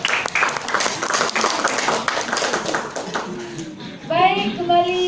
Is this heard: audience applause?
yes